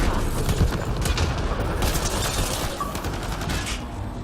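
Sniper rifle fire in the video game Mass Effect Andromeda, loud and close, heard as dense overlapping shots and booms in a noisy firefight, with no talking.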